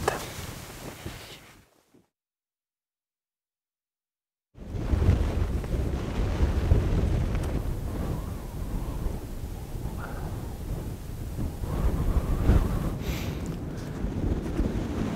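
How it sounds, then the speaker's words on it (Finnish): Strong wind buffets the microphone on a snowy Lapland fell in winter, a dense, steady roar broken by a brief dropout before the gusting resumes loud and close. "tuuli on vähän maltillisemmissa lukemissa tänä aamuna"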